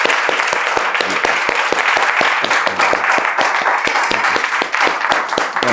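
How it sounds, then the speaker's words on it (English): Loud, lively applause for a master artist at an exhibition talk, many hands clapping close by with sharp individual claps standing out in a steady crowd of clapping. "a round of applause."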